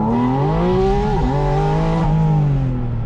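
A Porsche 718 Spyder RS engine revs hard toward 9,000 RPM, a loud, close, continuous high-pitched howl that climbs, dips briefly at a gear change, then keeps screaming steadily.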